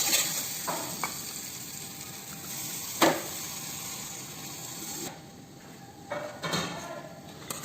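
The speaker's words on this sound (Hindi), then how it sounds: "तो इसमें अपन दूध डाल देंगे, तो आस्ते आस्ते इसमें हम दूध डालते हैं।" Milk is poured slowly into a sizzling pan for white sauce and stirred, producing a steady hiss and sizzle with scattered scraping taps from the stirring.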